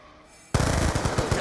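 A burst of automatic gunfire in a video game breaks out after a half-second lull, loud and continuous with rapid overlapping shots to the end.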